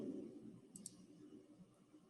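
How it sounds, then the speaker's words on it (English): A computer mouse double-clicks, two quick faint clicks close together, then a softer single click later, under a quiet room hum. "This thing's double clicking on me."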